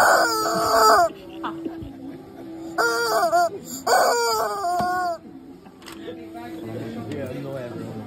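A pressed plastic toy chicken at a Lego show gives several loud, close electronic crowing calls in bursts, and people talk and laugh around it in a busy hall.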